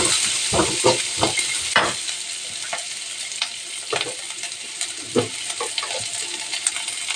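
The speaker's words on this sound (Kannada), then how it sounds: "ಕಟ್ ಮಾಡಿರೋಂಥ ಈರುಳ್ಳಿನ ಸೇರಿಸ್ಕೊಂಡಿದ್ದೀನಿ." Chopped onions and green chillies sizzle in a hot pan while a spoon stirs them, giving a steady frying hiss broken by repeated scraping and clinking stirs, close and with no one speaking.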